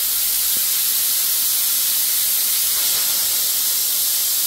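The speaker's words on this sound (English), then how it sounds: "It's called a spray gun." A spray gun on a jet engine's water injection test rig atomizes water into a fine mist, producing a loud, steady, unbroken hiss that holds evenly from start to finish.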